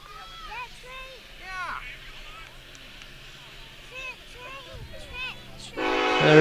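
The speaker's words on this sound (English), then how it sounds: "There is a train going across in the background." A train passes in the background at an outdoor college softball game, a low rumble under steady commentary, with a loud horn blast sounding near the end.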